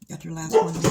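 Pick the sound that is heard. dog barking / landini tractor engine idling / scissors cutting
dog barking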